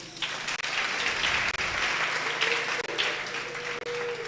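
Audience applause at a youth seminar for unemployed young people, a steady burst of clapping that carries throughout with a few brief dips.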